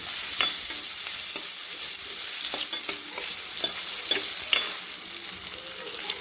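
Tomatoes and a little rock salt stirred and fried in a pan for a mushroom coconut kurma, a steady close sizzle broken by the scrape and tap of a spoon stirring, with no talking.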